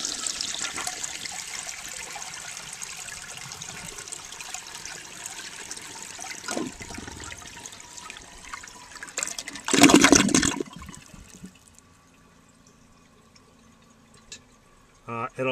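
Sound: Eljer Waco toilet flushing outdoors

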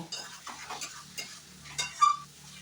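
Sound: sautéing spice paste with a little water in a pan

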